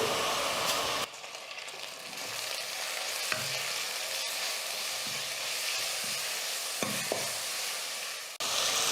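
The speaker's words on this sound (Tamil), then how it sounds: "இதையும் சேர்த்துட்டு நல்லா வதக்க போறேன்." Tomato sizzles with ginger garlic paste in a pan for mutton kulambu, a dense continuous frying hiss with a few soft stirring scrapes, starting and stopping abruptly.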